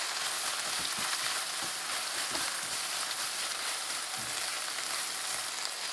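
Onion rings sizzling in oil for a lamb bhuna curry, a dense continuous frying hiss with occasional soft scrapes as they are stirred, steady and close.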